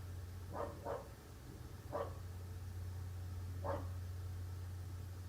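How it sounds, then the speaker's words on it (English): Dogs bark from the background in a few short bursts: a quick double bark, then single barks a second or two apart, muffled and distant over a steady low hum. "My dogs is back there going crazy."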